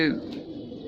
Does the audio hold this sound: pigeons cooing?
yes